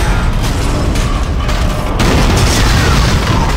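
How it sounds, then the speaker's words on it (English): A heavy booming explosion in Dead Space, a dense roaring blast that swells and rumbles on with a second surge partway through, loud and close, with no speech. "I exploded."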